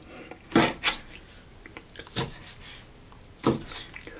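A knife crunches and cuts through chicken between large bones in three distinct bursts, close up, with quiet pauses between the strokes.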